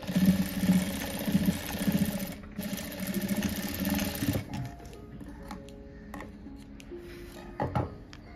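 Domestic sewing machine stitching a fabric hanging, a close rapid mechanical whirring in bursts of a few seconds, then stopping, followed by quieter handling clicks and rustles.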